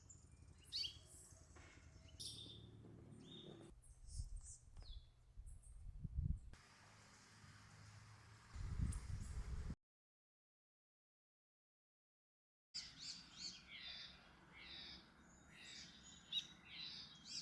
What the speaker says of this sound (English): the bird activity is starting to pick up